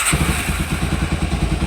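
A motorcycle engine running close by, a loud rapid even thumping beat with a mechanical clatter that holds steady throughout.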